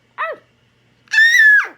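A baby imitates a dog with two high vocal yelps: a short whiny cry, a pause, then a longer strained squeal close to the microphone.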